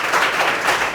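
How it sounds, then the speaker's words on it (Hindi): Students in a classroom clap together in a brief, fairly steady patter of applause lasting about a second. "बाबू, इनके लिए एक बार जोरदार ताली मार दीजिए।"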